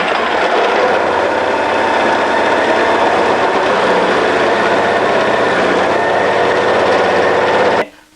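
A food processor fitted with a grating disc shreds Rodez cheese at speed 1, giving a loud, steady motor whir with a grinding edge that runs alone for about eight seconds before stopping abruptly.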